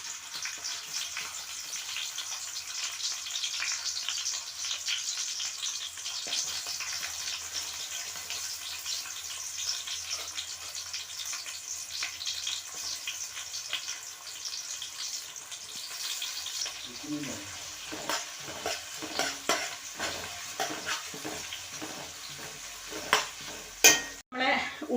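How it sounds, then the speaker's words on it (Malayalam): Sliced onions fry in hot oil in a pan for a biryani, giving a steady, fairly quiet broadband sizzle that later breaks into bursts of stirring and scraping. "അപ്പോൾ എന്തായാലും നമുക്ക് ഉള്ളി വറുത്തെടുക്കാം."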